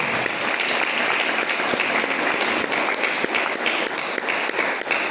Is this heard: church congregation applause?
yes